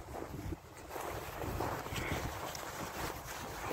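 Wind blows at night on a road trip, buffeting and rumbling across the microphone in uneven gusts, fairly quiet and with no speech over it.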